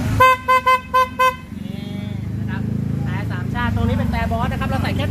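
Four short bursts of a loud, high-pitched horn on a Honda CT125 motorcycle, then an engine idling with people talking over it.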